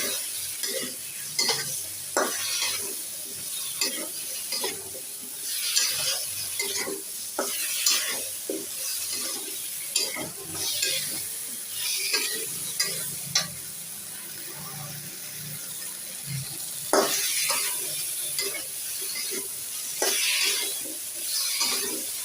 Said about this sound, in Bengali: সুন্দর করে তরকারিটা কষিয়ে নিই।